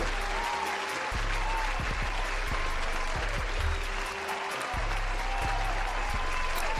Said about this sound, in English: let me give y'all this round of applause